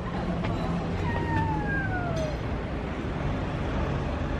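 Cats meowing inside a cat café, two drawn-out rising-then-falling meows close by over a steady murmur of room and street background, with no talk.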